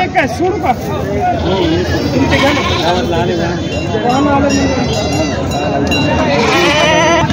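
Several goats bleat repeatedly, near and loud, at a goat market, over a busy background of crowd chatter and voices.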